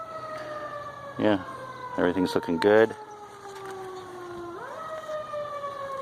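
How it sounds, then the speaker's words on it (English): A siren wails in long, sliding tones as it passes outside a backyard vegetable garden. Its pitch drops partway through, and someone speaks briefly over it. "Sorry about that siren."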